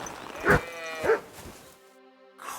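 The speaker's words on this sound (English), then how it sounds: "Whoa, doggy, good boy." Two loud, close dog barks sound about half a second apart in the medieval game Kingdom Come Deliverance II, followed by quieter background and a faint noise at the end.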